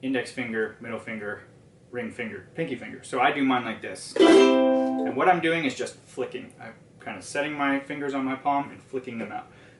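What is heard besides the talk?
No distinct noise like a dog, phone or traffic.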